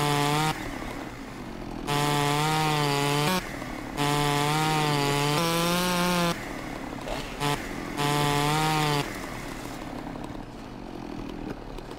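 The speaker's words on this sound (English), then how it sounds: "Really, chainsaw?" A chainsaw in Farming Simulator 17 revs in repeated loud bursts, whining high as it cuts wood, then dropping to a rough idle between cuts, close and alone without talking.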